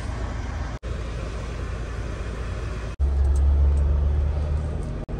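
Steady low engine rumble and road noise from inside a moving car, with brief dropouts and a deeper surge in the last two seconds.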